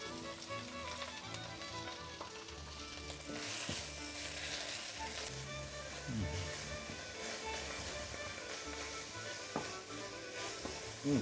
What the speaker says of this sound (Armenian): Սպանախը տապակի վրա արագ տապակում ենք